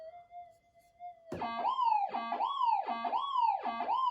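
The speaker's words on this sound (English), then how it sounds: "there's the battery going flat in the detector" A Minelab 5000 metal detector with a flat battery sounds a loud, repeating warning tone that sweeps up and down like a siren, about four cycles in quick succession after a softer steady hum.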